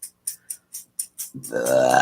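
A series of short burps, six or seven in a quick irregular rhythm, followed by a longer, deeper, drawn-out belch, loud and close with no talking.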